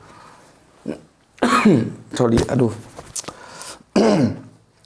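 A person coughs and clears their throat several times, loud and close, with a brief spoken word in between.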